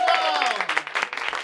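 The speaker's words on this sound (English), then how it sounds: "Please give a round of applause." Applause from an event audience rises briefly while a voice speaks over it, and the clapping stays short and moderate.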